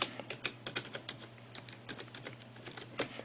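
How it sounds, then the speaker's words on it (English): Typing on a computer keyboard, a quick, uneven patter of close key clicks with no voices. "it's hard to type and do all this at the same time"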